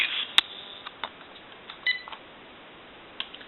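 A General Electric 6.0 cordless telephone gives off short electronic dialing tones and beeps, a few sharp pips spaced irregularly against a faint background hiss.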